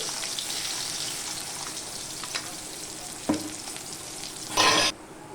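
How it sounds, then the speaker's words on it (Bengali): Chopped onion dropped into hot oil tempered with nigella seed, a steady faint sizzle with a few stirring knocks and a brief louder burst of frying near the end, no voices. "দিয়ে দেব কালো জিরে ফোড়ন, দিয়ে দেব পেঁয়াজ কুচি"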